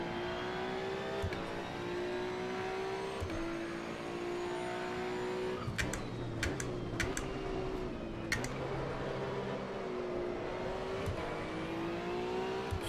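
A race car driven flat out in the racing game Assetto Corsa EVO gives a steady, loud, high-revving engine drone with several brief dips at gear changes and a few sharp ticks.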